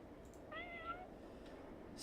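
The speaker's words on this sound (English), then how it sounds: "What's the meowing for?" A single short cat meow from the World of Warcraft game, faint and thin, rising briefly over a low steady background hum.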